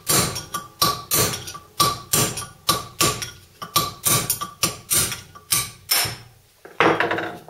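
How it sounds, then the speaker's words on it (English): Hammer tapping out the front wheel bearing of a VW T25/T3 bus: a fast, regular series of sharp metallic knocks, about two per second, loud and close, with one softer final blow. "tap out that front bearing"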